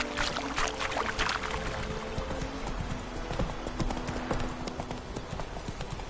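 The horse Roach gallops in The Witcher video game on PS5, with rapid, rhythmic clip-clop hoofbeats up close under faint background game sounds.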